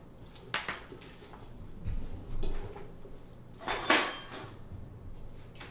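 Ceramic bowls clatter as they are taken out of a kitchen cupboard and set down on a counter, with several separate knocks and scrapes and a brighter clink near the end.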